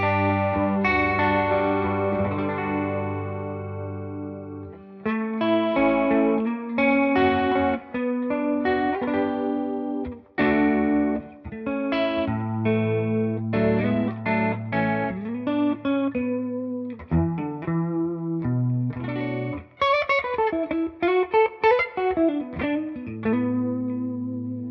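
Electric guitar played through a chorus effect on a TONEX amp modeler, shimmering sustained chords followed by melodic single-note runs with gentle pitch wobble, clean and upfront with short pauses between phrases.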